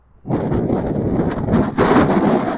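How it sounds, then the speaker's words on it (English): Steady outdoor wind and rain noise rushes close to the microphone, swelling louder toward the end. "it's raining, windy"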